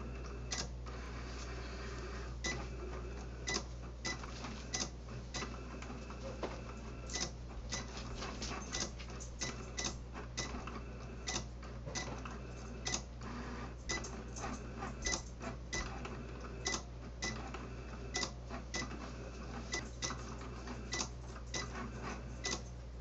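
A Cricut Explore One cutting machine draws text with a pen, producing a steady low motor hum overlaid with frequent small ticks and clicks from the moving carriage, quiet and continuous.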